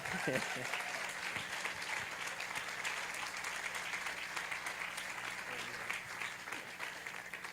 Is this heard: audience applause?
yes